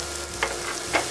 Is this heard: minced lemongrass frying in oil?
yes